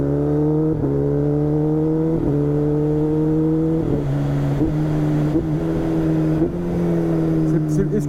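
A Kawasaki Ninja ZX-10R sport motorcycle engine revs loudly and steadily with a droning tone, pitch dipping and climbing through several throttle changes, close by.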